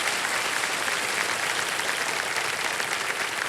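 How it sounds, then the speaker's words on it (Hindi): Studio audience on the KBC quiz show set clapping loudly and continuously, a thick uniform roar of hands that stays level throughout, with no voices heard. "और जोरदार तालियां बज जाएं"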